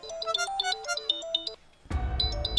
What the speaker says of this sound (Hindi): फोन है कि झुनझुना, जब मनाया उठाया और बजा दिया